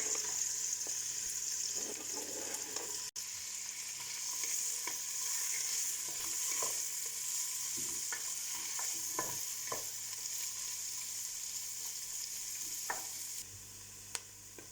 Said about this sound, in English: let the onion cook for a couple of minutes whilst stirring so that they don't stick